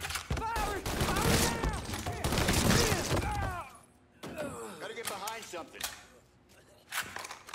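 A shootout in the game Mafia III has rapid gunfire crackling loudly for several seconds. Shouting voices and yells overlap the shots, then quieter sporadic shots and voices follow after a brief lull.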